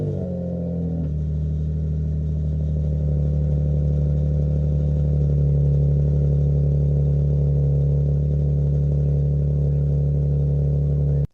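A Nissan 350Z engine with a cheap aftermarket eBay exhaust runs with a deep, loud, steady exhaust drone that shifts slightly early on, then settles into a throaty idle.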